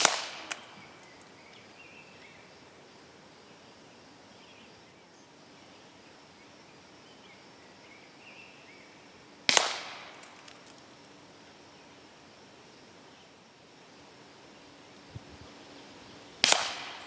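A .22 calibre Air Venturi Avenger PCP air rifle fires widely spaced single shots, each a sharp, loud crack with a brief tail, separated by long quiet stretches, while a magazine is finished at 50 yards.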